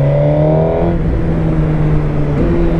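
Suzuki GSX-R 1000 motorcycle engine pulling hard while riding with traction control switched off, a loud steady drone whose pitch climbs then drops at a gear change, with wind roar underneath and no talk.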